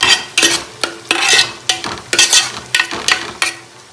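Masala frying in a pan while a spoon scrapes through it in quick regular strokes, about ten loud close scrapes over a constant sizzle, no voices.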